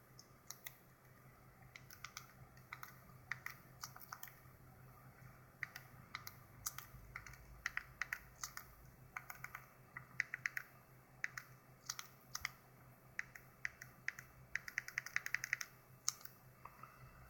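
Quiet, close keystrokes on a computer keyboard as a password is entered, irregular clicks coming in bursts over a faint background hum, growing quicker toward the end.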